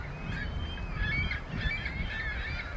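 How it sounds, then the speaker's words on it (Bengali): Large birds call from a rooftop in Canada, a series of goose-like honks repeating fairly close by over a soft background hum. "অনেকদিন পরে পাখির ডাক শুনলাম।"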